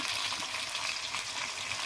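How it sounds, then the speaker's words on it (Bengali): Fish frying in a pan gives a steady, dense sizzle that runs unbroken and fairly close throughout, with no talking. "মাছ ভেজে নিলাম"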